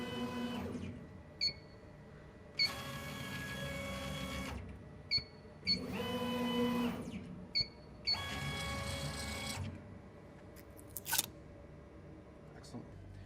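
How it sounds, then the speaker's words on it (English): CO2 laser cutter test-firing in each corner during mirror alignment: several separate bursts of mechanical buzzing and whirring, each lasting about a second, with short beeps between them and a sharp click near the end. "you want to fire the laser in all 4 corners to make sure that it's actually centered"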